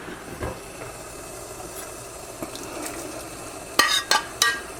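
Cooked rabbit, mushrooms and onions tumble back into a frying pan, giving a steady close sizzle with scattered scraping and a few sharp bursts near the end.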